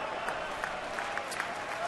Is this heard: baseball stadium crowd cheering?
yes